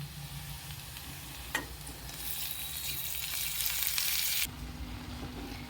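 Spring onion greens frying in hot oil with asafoetida for a Maharashtrian jhunka, a steady close sizzle that swells louder for a few seconds and then settles back to a quieter hiss.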